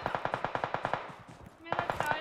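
Rapid bursts of sniper and automatic gunfire from a BGMI battle, about a dozen sharp evenly spaced shots, then a pause and a louder clustered volley near the end.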